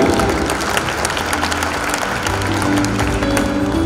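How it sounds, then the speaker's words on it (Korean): Audience applause at an evening awards event for disabled athletes in Gwangju, steady and dense across the whole stretch, with a faint murmur of the crowd and some low hum underneath. "박수 부탁드립니다."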